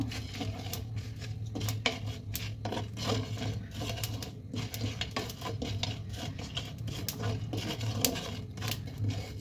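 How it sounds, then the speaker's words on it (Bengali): Whole coriander, cumin, peppercorns, cinnamon, dried chilli and cardamom dry roasting in a pan, a steady close scraping and rustling stirred with a utensil, with scattered sharp clicks over a low hum. "দেখুন ধনে, জিরে, গোটা গোলমরিচ, দারচিনি আর শুকনো লঙ্কা আর একটা দুটো এলাইচি দিয়ে আমি এটা ড্রাই রোস্ট করে নেব।"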